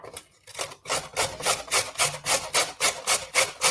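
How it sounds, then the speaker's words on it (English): Carrots are rubbed against a grater in quick regular strokes, about ten rasping scrapes in steady rhythm after a brief pause, close and crisp, with no voices. "I'm going to grate the carrots"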